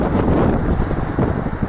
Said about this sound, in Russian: Ветер сегодня не сильный, такой слабенький ветерок северный